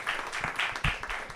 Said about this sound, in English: Big round of applause for Amolik, Vivian.